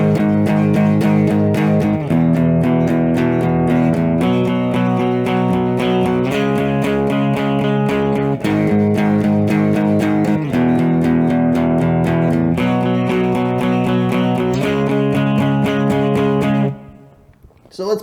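Distorted electric guitar plays the chorus part of a song, a steady loud strummed chord progression repeating in even rhythm for the whole stretch, then cutting off at the end.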